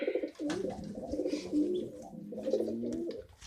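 A male dove coos repeatedly at close range, low soft rolling calls in a steady rhythm with no one talking.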